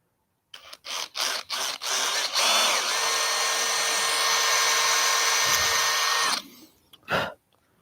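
A power drill with taped depth stops on its bits bores guitar kit parts: several short bursts of whirring, then one long steady high-pitched run, and a final brief burst, loud and close.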